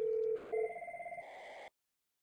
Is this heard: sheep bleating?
no